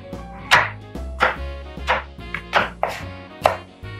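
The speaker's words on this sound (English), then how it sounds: "let's cut the cilantro, onion for the sides for our carnita taco" Six crisp knife strikes on a cutting board chop cilantro for carnitas tacos, coming at an even, unhurried rhythm, close up and loud, with a low hum underneath and no speech.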